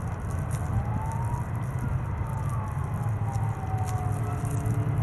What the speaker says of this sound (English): I've got some sirens in the background